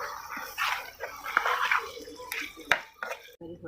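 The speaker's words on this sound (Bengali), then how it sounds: "একটু জল দিচ্ছি, নাহলে মাখো মাখো হবে না, শুকনো শুকনো হয়ে যাবে।" A little water is poured into a pan of anchovy curry, making a brief splashing gurgle and drip that give way to faint bubbling.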